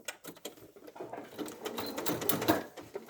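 Sewing machine running through a curved seam in thick fur fabric for a teddy bear, a quick, busy mechanical patter with uneven bursts as the stitching speeds up and slows around the curve.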